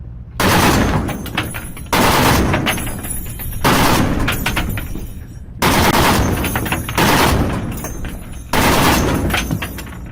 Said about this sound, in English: Here's a quick video of them firing off the 50 cals.